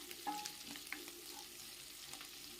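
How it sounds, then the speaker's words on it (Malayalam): Chilli chicken with green chillies stirred in a pan over a high flame, a soft continuous sizzle of frying with a few light scraping clicks of the spoon, close and fairly quiet. "പച്ചമുളകും കൂടെ ഇട്ടിട്ട് നമുക്ക് നല്ലതുപോലെ ഫ്ലെയിം കൂട്ടിയിട്ട് ഇളക്കി കൊടുക്കാം."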